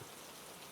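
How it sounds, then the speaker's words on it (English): Heavy storm rain pours down in a dense, continuous hiss of countless drops striking surfaces, steady and loud throughout with no pauses or voices. "distant thunder rumbled, and the rain poured"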